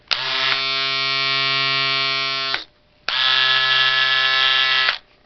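A Wahl electric shaver buzzes steadily, switches off briefly, then runs again with the same loud, even hum.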